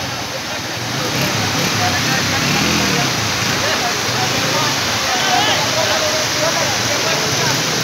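Water rushes down between rocks at a rocky hillside picnic spot near Karachi, a loud, steady broadband roar that fills the whole stretch without a break.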